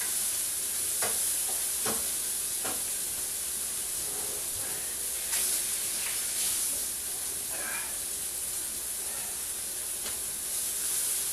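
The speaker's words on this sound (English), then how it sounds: "Until the onions start to caramelize and the jalapenos start to release" Onions and jalapenos sizzle steadily in a pan on the stove for Spanish-style pulled pork, a bright continuous hiss broken by occasional stirring scrapes and pops, with no talking.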